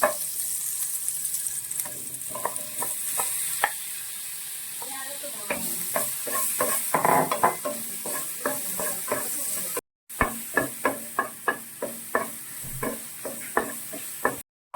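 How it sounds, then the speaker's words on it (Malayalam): Butter sizzles steadily in a pan while banana is sautéed, with repeated scraping and stirring clicks from a spatula, close by, with no talk. "നമ്മൾ ഒരു ചെറിയ പീസ് ബട്ടർ ഇട്ടതിന് ശേഷം ഈ പഴം ഒന്ന് വഴറ്റിയെടുക്കുവാണ്"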